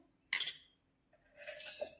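A spoon clinks against a bowl while half a spoon of cardamom powder goes into wheat-flour batter for carrot malpua: a sharp burst of close metallic clinks, a quiet pause, then a second, longer stretch of lighter clatter.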